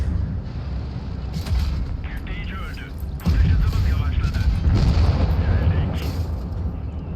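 Tank cannons boom in a World of Tanks Blitz battle, heavy low blasts with the loudest burst about three seconds in, over a rumbling engine and battle noise, with a player shouting urgently on top.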